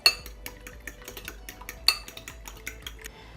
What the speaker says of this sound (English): We whisk everything together.